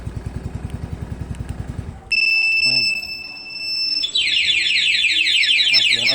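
A Honda-style scooter, a Yamaha Fazzio, idles with a rhythmic chugging, then cuts out as its loud anti-theft alarm starts: steady high tones shifting into a rapid warbling siren, close and piercing.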